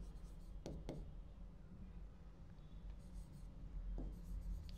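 Chalk or marker on a classroom board in a quiet room: soft scratchy strokes in a few short bursts over a low steady background hum.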